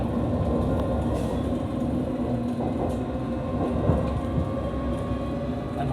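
A London Underground Metropolitan line train running between stations, a steady loud rumble and rail roar heard from inside the carriage, with faint clicks and no talk.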